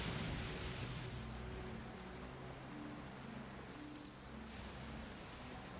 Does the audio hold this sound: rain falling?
yes